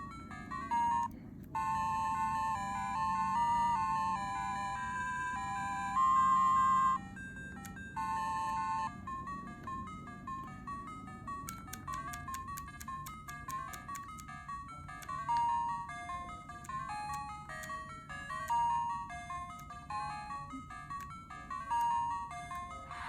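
Chiptune-style melodic music from the Sega game Ecco: The Tides of Time plays from a portable arcade console speaker, with bright beeping synth notes in a bouncy rhythm, brief pauses and steady volume.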